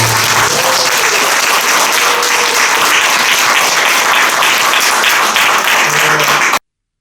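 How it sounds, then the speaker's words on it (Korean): Loud, sustained applause from a lecture audience for a former high school headmaster, dense steady clapping filling the hall for about six and a half seconds with a few faint voices beneath, then cutting off. "마지막으로 우리 교장 선생님께 큰 박수를 받겠습니다"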